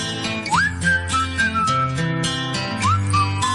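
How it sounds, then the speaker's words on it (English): A person whistles a short rising-and-falling tune over steady background music, with a brief pause before a second whistled phrase. "Hey, I'm whistling."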